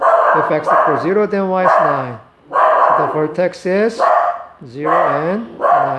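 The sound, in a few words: dog barking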